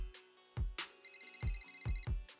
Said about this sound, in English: Just as you finish your sentence, phone rings again.